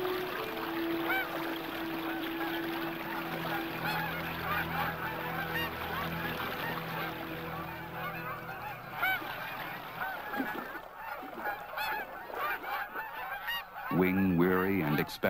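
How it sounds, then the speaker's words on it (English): Canada geese honk in a loosely knit flock as they rest and feed in the shallow water of a marsh. Their calls overlap in a busy, continuous chorus, and a single loud, close honk sounds near the end. "Canada geese stop to rest and feed in shallow water."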